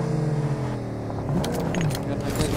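A car engine inside a video game tournament match, a loud steady hum that rises in pitch as the vehicle revs, close up, with brief clicks and jingling on top.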